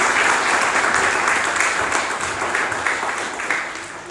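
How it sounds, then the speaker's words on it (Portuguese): Church congregation applauding to welcome speakers at an evening service, loud, dense, sustained clapping that eases slightly toward the end. "Vamos recebê-las com palmas bem alegres para Jesus."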